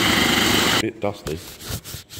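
A power sander grinds loudly and steadily on wood for under a second, then stops, and a voice talks over the quieter remainder.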